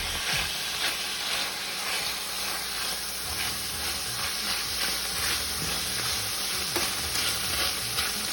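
Meat stirred as it fries in olive oil for a Philly sandwich, a steady close sizzle with scraping stir strokes repeating throughout, no talking.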